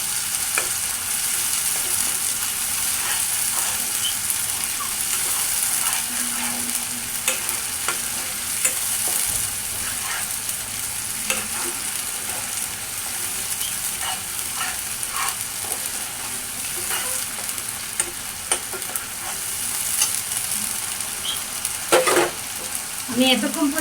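Beef korma ingredients fry in pure mustard oil, a steady close hiss of sizzling that runs throughout, broken by scattered spoon scrapes and stirring clicks, with a louder clatter near the end.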